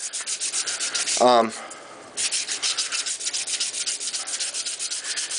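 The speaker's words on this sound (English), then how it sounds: "when you're sanding just regularly" Drywall being sanded by hand without dust control, with repeated rhythmic scraping strokes, close and fairly loud, and a brief pause partway through.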